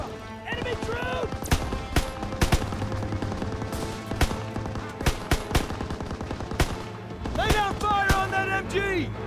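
Rapid machine gun bursts and sharp gunshots in a Call of Duty WWII battle, repeated loud volleys stacked over a dense combat din, with shouted voices cutting in between the firing.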